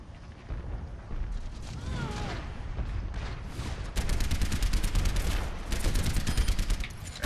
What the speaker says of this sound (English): I'll just keep blowing up this guy's turret if he wants to keep putting it there